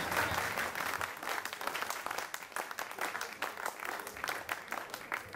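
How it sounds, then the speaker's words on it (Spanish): Crowd at a political rally applauding, a dense, steady wash of many hands clapping that holds for several seconds with no talk over it. "Compañeros, palmas para mi compañero Lucho Negreiros."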